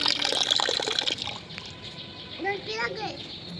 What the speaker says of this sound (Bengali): আর এইদিকে দেখো কলটা ছেড়ে রেখে দিয়েছে